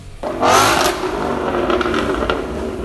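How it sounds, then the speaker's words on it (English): A combustion-engine car revs sharply, with a loud rising burst then a steady throaty drone and faint crackles that fit a popping exhaust, close and with no voices. "the popping exhaust from the unspent fuel igniting"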